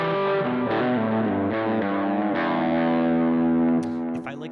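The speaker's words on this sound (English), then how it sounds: "the sound of that distorted guitar on its own" Distorted electric guitar run through a Boss GX-10 effects unit, a thick sustained saturated chord that slides and shifts before fading with a brief squeal at the end.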